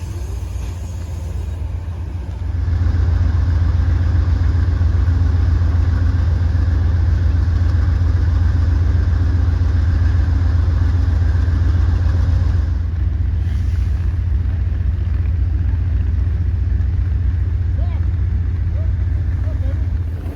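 Amtrak Empire Builder diesel locomotives idle at a winter refuel stop in Minot, a steady deep low rumble holding constant throughout, with a slight step up in level after the first couple of seconds.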